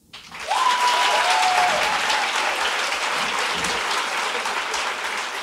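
A comedy show audience breaks into loud, dense applause, sustained steadily throughout with a crowd wash and no voices on top.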